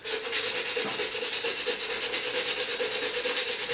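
A dried gourd is sanded in quick, rhythmic back-and-forth strokes, a close, scratchy rasp repeating evenly throughout.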